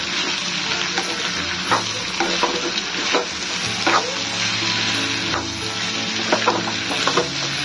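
Vegetables sizzle in a frying pan while a spoon stirs them, producing a constant hiss punctuated by repeated scraping strokes and clatters against the pan, with no talking.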